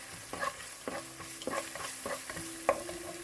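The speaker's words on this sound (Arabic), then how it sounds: "نقليها شويه طماطم لمده دقيقتين 3 دقائق" Tomatoes frying in a pan, stirred now and then, with soft sizzling broken by several scraping stirs roughly every half second to second, close and moderately quiet, with no talking.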